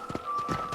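Horse hooves clop on the ground in the Western video game Red Dead Redemption, two or three close, moderately loud footfalls over less than a second, with a steady tonal hum beneath and no talk.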